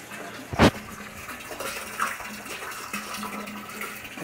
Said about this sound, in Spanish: está llegando el agua.